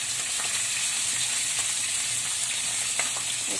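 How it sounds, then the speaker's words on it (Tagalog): Coconut milk hits a pan of cooking moringa leaves, producing a steady close sizzle and bubbling hiss with faint stirring clicks, continuous and fairly loud, with no voices. "Lagyan natin ng gata yung coconut milk."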